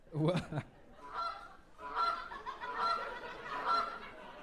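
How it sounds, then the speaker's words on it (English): A goose honks several times in a row, a short burst at the start and then a string of nasal, fairly loud calls, with no talk over them. "That was a goose."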